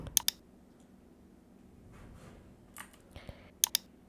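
Computer mouse clicks while setting up an OBS stream to YouTube, sharp close double clicks at the start and end with a few softer clicks between, over a quiet background hum, no talking.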